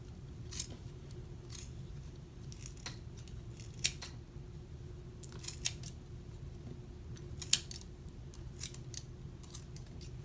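Scissors cutting paper for a back-to-school craft, with a dozen or so short, crisp snips at an irregular pace. The snips are close and clear over quiet room hum, with no talking.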